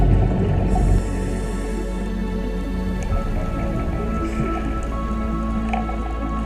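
Underwater at Ponta do Ouro, Mozambique, a scuba diver breathes from a tank, a low muffled rumble with soft bubbly gurgles and faint clicks over steady water noise.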